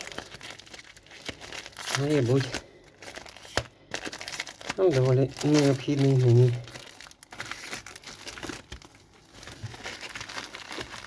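A plastic parcel bag crinkles and rustles close up in repeated bursts while someone talks over it, speaking Russian and Ukrainian.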